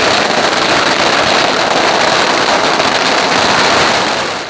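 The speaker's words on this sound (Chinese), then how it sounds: "现场炮声不断" Firecrackers explode nonstop at the Beigang Mazu Lantern Festival temple procession in Yunlin, a loud, dense, continuous crackle with no gaps between bursts.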